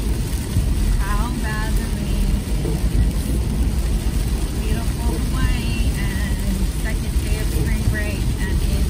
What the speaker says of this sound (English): Look at how bad the rain is.